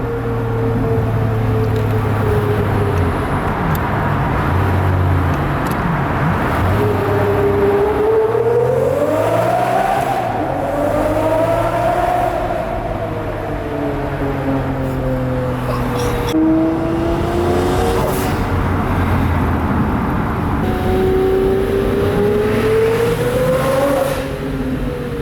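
A full-scale Lamborghini Murcielago replica's engine winds up through the gears, each pull rising in pitch until shifting and climbing again, loud and close with a deep, rumbling drone underneath.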